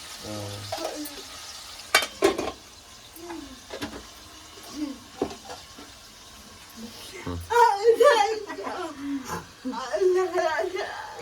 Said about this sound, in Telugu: ఉల్లిపాయ మగ్గుతుందండి